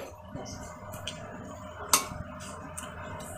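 Cutlery and a pan clink faintly as a dry cooked vegetable dish is served onto a plate, with one sharp louder clink in the middle against a low kitchen background.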